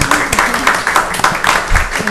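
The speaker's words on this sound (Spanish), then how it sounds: "le damos un aplauso" An audience gives a round of applause after a talk on gender and work in Mexico's maquiladoras, a loud, dense burst of clapping that holds steady for a couple of seconds.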